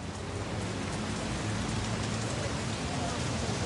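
Steady rain falls on a London pavement, a dense, even hiss with no pauses and no clear drops standing out, close and fairly loud.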